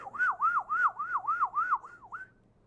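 A voice imitates a police siren with a rapid, rising-and-falling wail repeated about seven times, close and loud, then trailing off into quiet.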